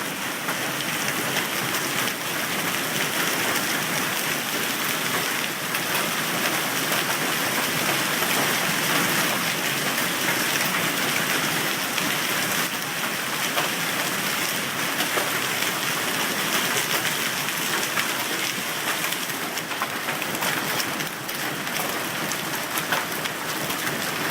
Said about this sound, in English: some pretty gnarly hail.